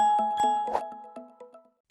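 A bright notification bell chime rings out in a quick run of clear, ringing tones that overlap and then decay away into silence, alone with no voices.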